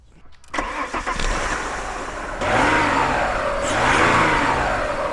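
An Alfa Romeo engine fitted with an aftermarket induction kit cranks, catches and then revs loudly up close, its intake roar swelling in two rising pulls over a steady idle.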